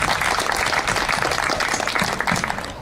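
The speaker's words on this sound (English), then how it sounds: "Please, a round of applause." Audience applause at the opening of a bonsai and orchid exhibition in Melbourne, a dense steady patter of many hands clapping that holds through the whole stretch and fades slightly at the end.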